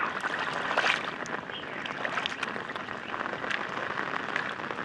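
Floodwater rushes after very heavy rain in a Gujarat village, a dense, steady roar of flowing water with no pauses, loud and close.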